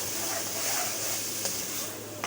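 Chicken qeema cooks with whole cumin and coriander in a pan, a dense hiss with soft stirring scrapes, close and continuous.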